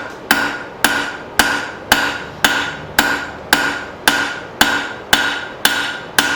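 Hammer blows on hot steel while forging a long taper on a bird feeder hanger: about a dozen sharp, ringing strikes at a steady, even rhythm, close and loud, with brief ringing decays between hits and no talk.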